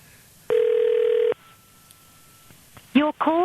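A telephone call placed on a mobile network: a steady tone sounds for nearly a second, then a pause before bursts of dialing and ringing tones at the end.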